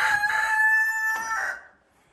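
A rooster on a small farm crows loudly and close by in one drawn-out call, with other chickens faintly around it, then it trails off into quiet.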